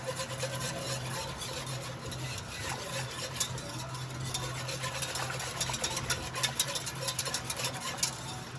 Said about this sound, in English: I'm just going to sprinkle this in here. The fire is off. Make sure we get all that in there. Go get our whisk.